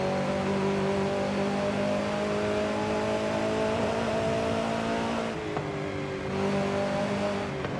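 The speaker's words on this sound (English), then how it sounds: "It's a long gearing, high revving motor or engine." High-revving car engine in Forza Horizon 5, a long-geared motor holding a steady loud drone with strong harmonics, dipping briefly near the end before climbing again, close and continuous with no talk.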